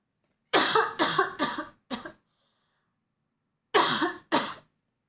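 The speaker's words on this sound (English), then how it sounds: "then your body's like, fuck you, you're coughing now." A coughing fit that breaks out after a suppressed cough, four harsh close coughs in quick succession, a pause, then two more, loud and with no talk between.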